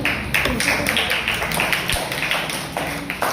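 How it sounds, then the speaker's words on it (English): An audience at an Independence Day celebration gives applause after a chancellor's address, crisp individual claps tapping out in a quick uneven rhythm, moderately loud and fairly close, with faint murmuring underneath. "Big applause everyone"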